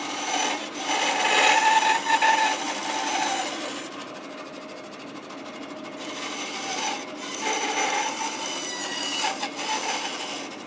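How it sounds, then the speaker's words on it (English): A bandsaw fitted with a thick resaw blade cuts through wood, a continuous raspy grinding whine that swells and eases as the workpiece is fed, with no speech. "So when you have a big, thick resaw blade like this, you kind of think of it like as a chainsaw blade"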